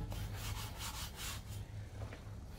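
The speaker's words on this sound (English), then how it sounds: "I'm just scrubbing the mounting surface of the rim" Scrubbing the mounting surface of a 1998 Jeep ZJ 5.9 Grand Cherokee's Ultra Star wheel rim, a close, steady abrasive rubbing in repeated back-and-forth strokes, fairly quiet.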